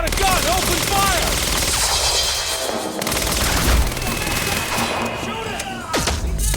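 Bursts of automatic gunfire in Quantum Break crackle loudly and close in a sustained exchange, with shouting voices over the shots.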